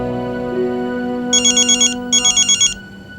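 A phone ringtone plays in two short bursts of rapid warbling electronic tones, loud and close over a soft background hum with no talking.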